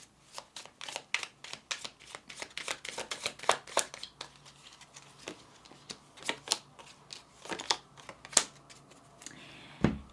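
Tarot cards being shuffled and handled in a quiet room, a steady run of sharp, close riffling and slapping card sounds with no talking.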